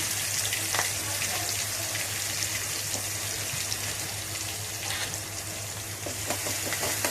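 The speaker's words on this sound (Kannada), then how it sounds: "ಇದಕ್ಕೆ ಹಸಿಮೆಣಸಿನಕಾಯಿ ಪೇಸ್ಟ್ ಹಾಕ್ತಾ ಇದ್ದೀನಿ." Green chili paste hits a hot pan with a steady, broad sizzle and frying crackle, heard up close for several seconds with faint scraping and kitchen background.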